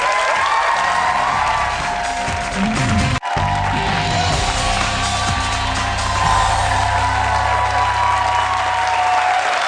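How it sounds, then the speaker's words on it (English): Loud studio audience applause with some cheering on a TV talk show, briefly cut off near the middle before resuming and carrying on steadily to the end. "we hear a smattering of applause from our enormous audience"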